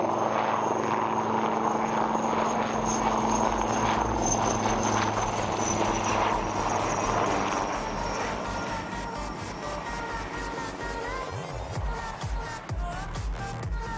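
A HAL aircraft flies an aerobatic display at Aero India 2021, a loud sustained engine roar with a shifting, pulsing tone that thins and wavers toward the end as the aircraft manoeuvres.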